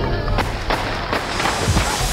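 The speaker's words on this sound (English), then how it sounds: "then the shots rang out" Gunshots ring out at a presidential motorcade: several sharp bangs, roughly three in quick succession, stand out over a dense, noisy background roar.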